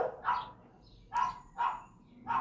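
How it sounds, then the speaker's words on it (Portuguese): A small dog barks four times in short, sharp yaps spaced about half a second apart, moderately near against a quiet indoor background with no talking. "Cachorrinho aí, ó, latindo."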